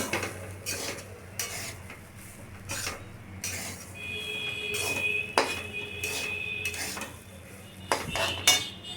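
A spatula scrapes and clanks against a pan while fried rice with cashews and raisins is mixed. Rhythmic metallic strokes repeat over a low sizzle, close up and without speech.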